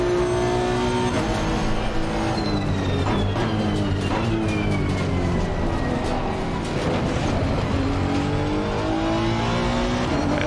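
Race car engine in the sim racing game Assetto Corsa Competizione, loud and continuous, revving up and down through gear changes with harmonic whine across the whole stretch, no talk.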